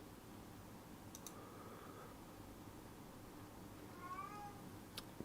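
A cat meows softly a couple of times in a quiet room, faint against steady background hiss, with a few sharp keyboard-like clicks nearby.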